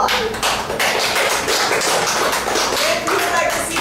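An audience at a live show at The Pinch in D.C. bursts into loud, dense applause that fills the room continuously, with some voices mixed into the noise.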